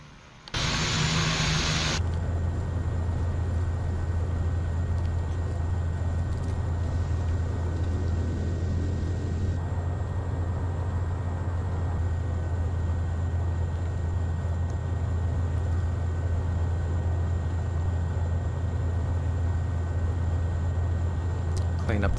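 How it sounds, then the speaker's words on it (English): A Carenado Pilatus PC-12 turboprop in a flight simulator holds a steady, loud engine drone with a constant high whine after a brief startup burst. It runs on, unchanging, with no talk. "The PC Pilatus from Carenado."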